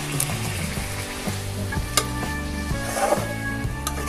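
Mustard and poppy seed paste masala sizzling in a pan as it is stirred for a fish mustard curry, a continuous close sizzle with soft scraping strokes and no voice.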